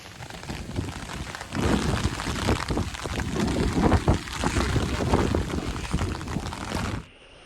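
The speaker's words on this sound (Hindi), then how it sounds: "ये देख लो कितनी ज़्यादा बारिश हो रही है, हवाएं भी बहुत तेज़ चल रही है।" Heavy rain pours steadily onto surfaces with gusts of strong wind in Kashmir, a dense wash of drumming and hiss that swells loud for several seconds before cutting off abruptly near the end.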